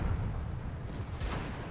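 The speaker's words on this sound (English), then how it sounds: "I've just taken a big hit from the T95 into my commander's cupola" A heavy shell from a T95 tank destroyer strikes the player's tank on the commander's cupola in World of Tanks, a dull booming impact with a brief crash of debris in the middle of ongoing battle noise.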